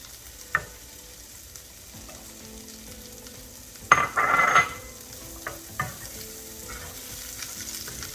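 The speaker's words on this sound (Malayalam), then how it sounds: "ഇനി ഇതിലേക്ക് അരിഞ്ഞ് വെച്ചിരിക്കുന്ന സവാള ഇടുകയാണ്." Chopped onion frying in a pan for paneer butter masala, a low steady sizzle with a louder burst of hiss and crackle midway as the onion hits the pan, plus a few clicks of stirring.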